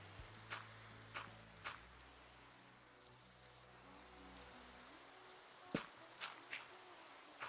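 Rainfall in Minecraft: a soft, steady hiss of rain with a few faint, regularly spaced taps and knocks over it, quiet and distant, with no voices.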